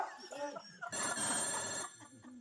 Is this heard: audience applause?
no